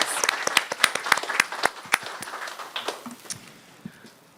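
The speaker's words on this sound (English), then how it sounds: "let's just give the team a round of applause" A board of education meeting audience gives a short round of applause for a team, scattered individual claps that quickly thin out and fade within a few seconds.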